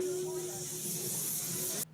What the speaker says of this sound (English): Looks like somebody from Antifa was spraying mace at them, like one of those, bear mace things.